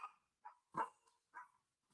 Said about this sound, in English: we have to get the dog to stop doing that. They're like both barking.